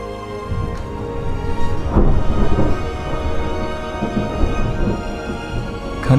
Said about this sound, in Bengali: আবার মেঘের গর্জন, সাথে অঝোরে বৃষ্টি।